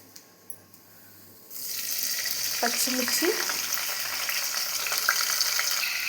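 Bay leaf and whole spices such as cinnamon and cloves hitting hot oil, a steady close sizzle that starts abruptly and keeps crackling, with a brief stir partway through.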